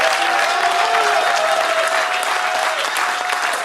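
A church congregation bursts into loud, sustained applause, dense clapping from many hands that carries on evenly and close, with a few faint voices mixed in.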